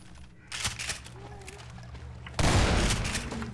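Gunfire from shooting enemies in Half-Life 2: Episode One, with a loud burst of shots near the end that carries on to the close, after quieter scattered firing and game sounds.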